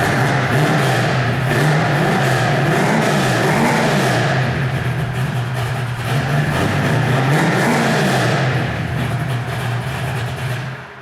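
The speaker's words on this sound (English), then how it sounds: "This is a wicked 700 horsepower Camaro." A 700 horsepower Camaro engine roars and revs continuously up close, loud with a rising and falling pitch, alone without talk.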